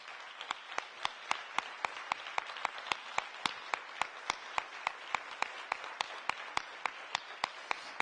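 Indoor audience applauding at a talk, a loose run of sharp distinct claps at a moderate pace, fairly faint and steady throughout.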